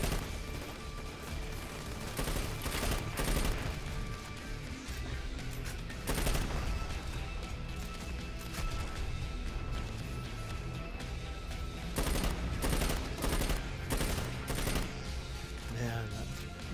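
Sustained gunfire from the video game Dirty Bomb, a loud continuous stream of rapid shots with repeated sharper bursts and crashes throughout, layered over other game noise.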